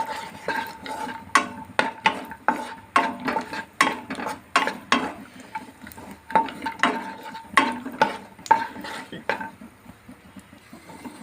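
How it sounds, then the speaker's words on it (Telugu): Raisins, almonds and cashews frying in a kadai, stirred with a metal spoon that clinks and scrapes against the pan in irregular bursts over a faint sizzle, close by. "లైట్ గోల్డెన్ కలర్ వచ్చే వరకు వీటిని వేయించుకోండి"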